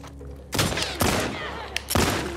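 Three loud, sharp bursts of gunfire in the video game The Last of Us Part II ring out about half a second apart, each trailing off in a noisy echo.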